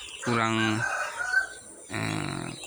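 Two loud, close rooster crows ring out with a short pause between them, over soft clucking from laying hens in a poultry coop.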